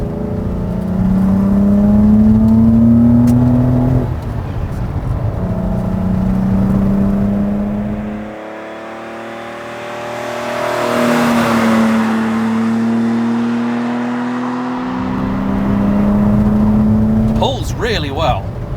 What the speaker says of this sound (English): when you do get to a country road and you then get to put your foot down, you get to hear this lovely engine